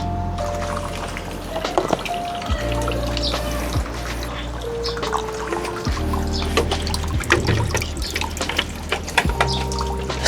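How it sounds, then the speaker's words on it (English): Distilled water runs steadily through the drain of a Triumph Trident 660 motorcycle radiator during a coolant flush, a continuous close trickle and splash with drips, heard alone over a low hum. "I'm going to run distilled water through the radiator again until the water that comes out is clear."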